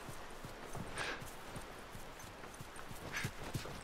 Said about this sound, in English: Yeah, no, I need my horse.